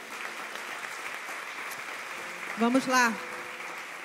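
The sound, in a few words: congregation applause in church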